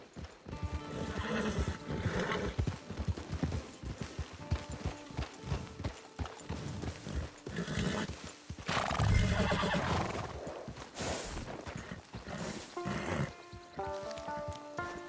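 A horse whinnies loudly among steady clip-clopping hooves in Red Dead Redemption 2 Online, with trickling water and ambient outdoor sounds throughout.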